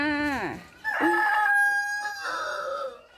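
Chickens clucking and a rooster crowing close by in a backyard garden, with short squawks giving way to a long, strained crow, loud and near.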